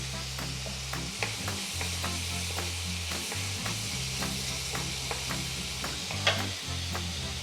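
Betel leaf, karpooravalli and tulsi herbs sizzle softly in a pan for rasam, with a steady fry hiss under a regular series of light scraping stirs.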